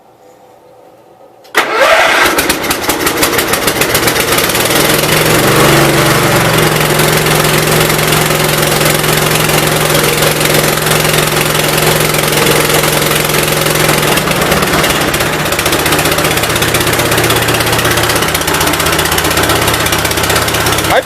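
A 1988 Gravely 12G garden tractor with a fuel problem starts after a short silence, then idles loud and close in a steady, slightly uneven mid-pitched drone.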